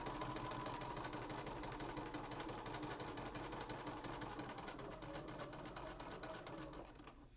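A sewing machine stitches down the raw edge of a quilt's hanging sleeve, running in one steady, rapid mechanical chatter close by for several seconds before slowing and stopping, with no talking over it.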